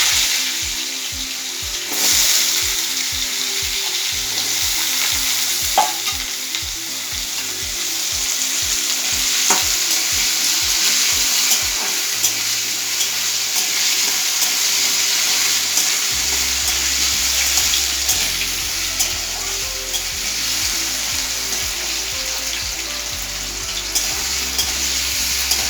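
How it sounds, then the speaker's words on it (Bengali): Potatoes frying in hot oil with cumin seeds for a raw banana peel curry, a steady loud sizzle running throughout with occasional stirring and utensil clinks, no voices. "তেলটা একটু হয়ে গেলে, জিরেগুলো হয়ে গেলে আলুগুলো ছেড়ে দেব।"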